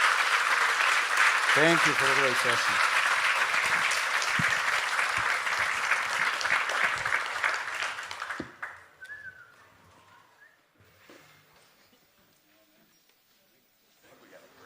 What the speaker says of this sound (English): let's give one last round of applause for Will